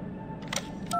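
Phone dialing in the game The Darkness, two short electronic keypad tones ringing out over a low steady background hum within a second, close and clean with no voices.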